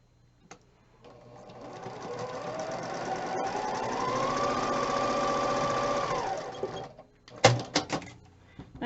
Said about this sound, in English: we're going to sew a 1/4 inch on either side of the drawn line